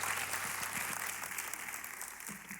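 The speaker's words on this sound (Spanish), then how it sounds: "Denle otro fuerte aplauso al Señor" A church congregation applauds at a Sunday morning service. The clapping is steady and fairly faint, with a dense patter of hands that continues the whole time.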